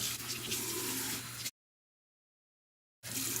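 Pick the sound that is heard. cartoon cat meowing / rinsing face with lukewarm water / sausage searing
rinsing face with lukewarm water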